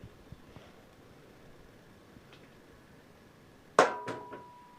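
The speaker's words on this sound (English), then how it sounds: "so I can knock the dowel pins out" A few sharp metallic hammer strikes knocking out dowel pins near the end, one loud knock followed by two lighter ones, after a mostly quiet stretch with faint ticks.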